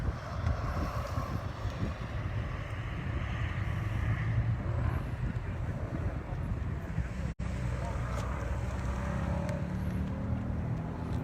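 Tesla car lapping a dry skid pad, a steady distant vehicle hum mixed with heavy wind buffeting on the microphone, a brief sharp knock partway through.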